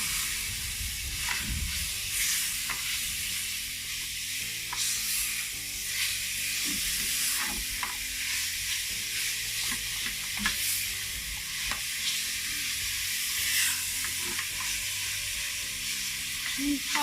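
A sizzling mixture is stirred in a hot pan, continuous frying hiss broken by repeated scraping strokes of the spoon at an irregular pace, close and fairly loud with no talk.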